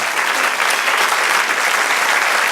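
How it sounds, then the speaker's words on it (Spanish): A church congregation claps together in a dense, steady round of applause that holds at full strength throughout, close and loud with no voices standing out. "Dale aplauso, Señor."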